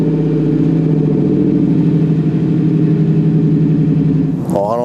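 A supercharged V8 in a Ford F-150 Lightning pickup runs with a deep, loud, steady rumble at close range, then rises into a brief rev at the very end.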